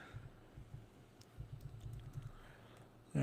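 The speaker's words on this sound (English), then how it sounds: "I'm going to type in" Typing on a computer keyboard: a quick run of light key clicks, close and soft, ending in a brief louder thump.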